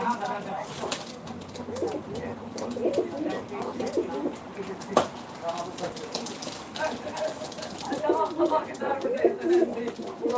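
White and smoke-coloured Turkish tumbler pigeons coo repeatedly in low, rolling phrases, close by, under a steady background hum, with scattered sharper clicks and flutters.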